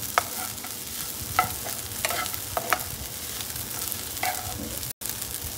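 Sabudana for khichdi is stir-fried in a pan: a continuous frying hiss with repeated spoon scrapes and taps at an irregular pace, close and fairly loud, with no one speaking.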